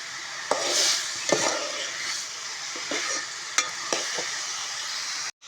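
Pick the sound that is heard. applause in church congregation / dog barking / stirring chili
stirring chili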